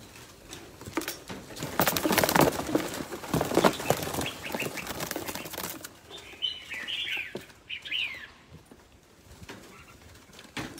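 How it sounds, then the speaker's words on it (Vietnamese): Chicks with a rush of loud flapping wings up close for several seconds, followed by a quieter stretch of high, thin chirps and peeps. "Gà con."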